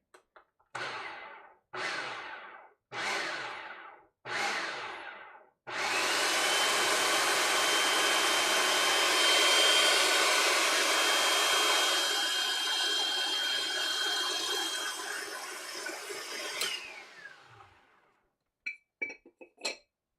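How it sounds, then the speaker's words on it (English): A blender purees ingredients for zucchini pancakes or black bean breakfast sausage. It opens with four short pulses, then runs in one loud, continuous whirring stretch that winds down, followed by a few faint clinks. "So I'm gonna puree it all up and see what it tastes like"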